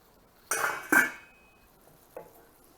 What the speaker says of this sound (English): I'm going to slap on a lid at this stage